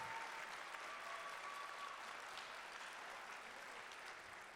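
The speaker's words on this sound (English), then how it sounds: "a big round of applause for the Spanish Patxi Sobiaga" An audience applauds for Spanish climber Patxi Usobiaga after his attempt at a climbing event, a steady wash of clapping that stays even and fairly distant throughout.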